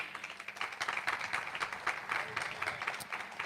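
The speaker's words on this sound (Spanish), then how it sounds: "Vamos a darle un fuerte aplauso." Church congregation applauding together, a dense patter of many hands clapping steadily for a few seconds in a hall, moderately loud with no voices over it.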